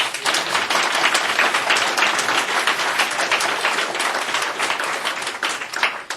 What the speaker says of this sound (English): we all applaud God for that